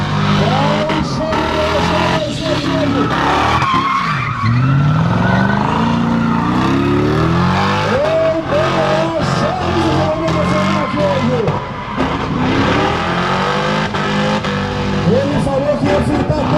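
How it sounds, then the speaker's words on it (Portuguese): A V8 car does a burnout on a race track with a loud, sustained engine roar and piercing, wavering tire squeal. A crowd and voices are faintly audible beneath it. "ele falou que ia fritar até explodir os pneus, velho"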